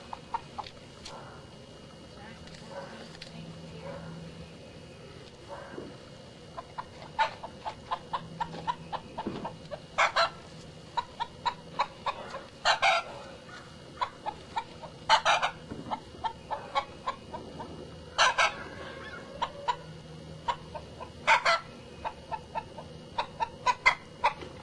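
Hens cluck after laying eggs, with repeated sharp calls and short bursts scattered over a steady low background at moderate distance, and a crow-like cry now and then, no clear talk.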